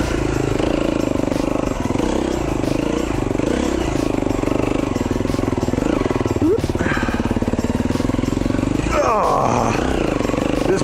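A 2011 KTM 350 XC-F dirt bike runs in second gear on a Utah trail, its engine droning steadily and close with rising revs and clattering over rough ground, while a rider speaks briefly over it.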